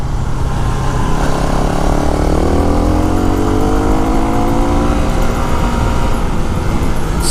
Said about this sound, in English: Feels good to be back on the bike.